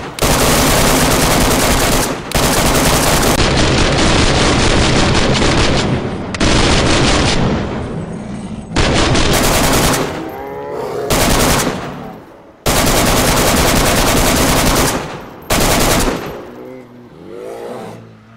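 Heavy gunfire in the video game DayZ: loud, dense bursts of automatic shooting that stop and start in long volleys, with short pauses between them.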